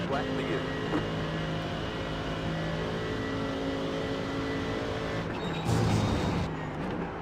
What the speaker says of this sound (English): BMW and Ferrari are racing back and forth right now